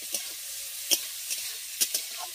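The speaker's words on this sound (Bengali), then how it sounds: "চিংড়ি মাছ কিন্তু প্রথমে ভেজে নিতে হবে।" Prawns fry in hot oil with a steady close sizzle, broken by a few sharp clinks and scrapes as they are stirred in the pan.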